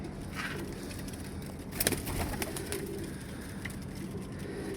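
Pedigree pigeons in a pigeon house coo softly in low, steady murmurs, with a few brief louder flutters and calls rising over the constant background.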